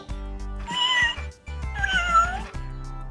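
A cartoon cat gives two long, drawn-out meows, close and loud, over a steady low background tone.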